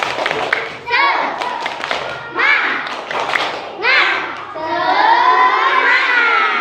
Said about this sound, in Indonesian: Ayo, mari kita tepuk-tepuk terlebih dahulu bersama-sama.